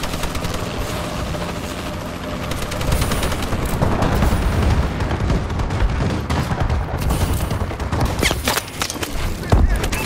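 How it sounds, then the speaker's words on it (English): An enemy bombing run in the multiplayer shooter Call of Duty: Advanced Warfare, a loud continuous barrage of explosions and rattling gunfire with rotor-like drone overhead, punctuated by heavier booms, while game voices call out over the chaos. "Enemy bombing run overhead."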